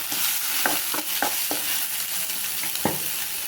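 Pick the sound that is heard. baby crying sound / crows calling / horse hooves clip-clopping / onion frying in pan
onion frying in pan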